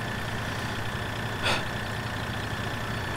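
Tractor engine in Farming Simulator 2013 drones at a steady idle-like rumble throughout, with a brief hiss or whoosh near the middle; no one speaks.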